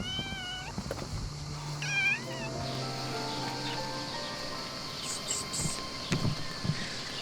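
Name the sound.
kitten meowing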